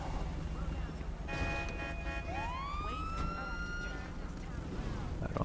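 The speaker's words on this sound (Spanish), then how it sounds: "Ok, la ambulancia se va." Ambulance siren in the police mod LSPDFR for the video game GTA V, a rising electronic wail sweeping upward then holding, with someone talking over it and street noise beneath.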